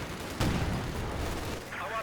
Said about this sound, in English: Nice shot there by the pack gun.